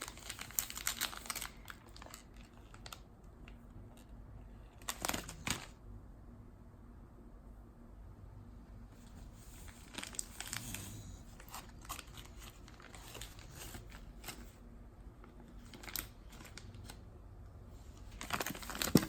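Paper being ripped open, with intermittent crinkling and tearing rustles in scattered bursts and a louder rip near the end, close by and fairly quiet.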